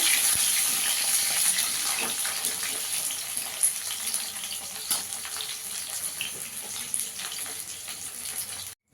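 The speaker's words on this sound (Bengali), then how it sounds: "কুমড়োটাকে একটু লাল করে ভেজে নেব।" Steady crackling sizzle of pumpkin frying in hot oil, with small pops scattered through a constant hiss, close by.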